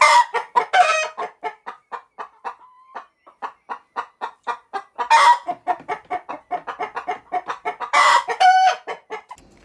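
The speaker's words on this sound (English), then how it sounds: "I'm trying to see if this is a broody hen." Broody hens cluck in a steady run of short, close clucks, with a few louder squawking bursts breaking in now and then.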